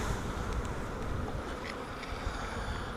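Honey bees buzz around an opened hive during a quick inspection: a dense, continuous, close drone of many wings.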